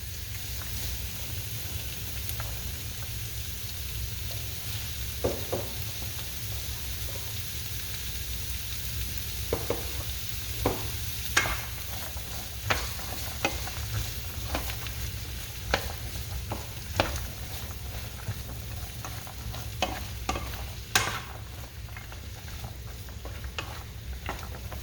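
Rutabagas sizzle steadily in a pot for chicken corn chowder, with a constant low frying hiss broken by scattered scrapes and clicks of stirring; no one speaks.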